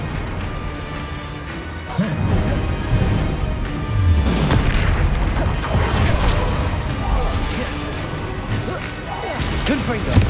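Repeated spell-blast explosions and crashing impacts from the Confringo blasting spell in the video game Hogwarts Legacy, with loud booms piling over continuous combat effects and a voice calling out spells throughout.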